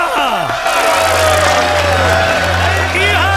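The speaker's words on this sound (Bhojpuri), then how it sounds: "दवरुआ खातिर तालियां" A film crowd cheers and whoops loudly with some clapping, voices shouting over the continuous roar while music-like tones run underneath.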